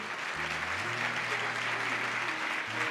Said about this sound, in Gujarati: આપણે આપણા વડતાલ મંદિરના સામાજિક કામને ખૂબ મોટા તાળીઓના નાદથી વધાવીએ